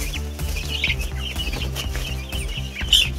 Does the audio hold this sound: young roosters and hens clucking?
yes